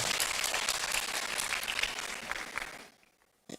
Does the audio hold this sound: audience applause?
yes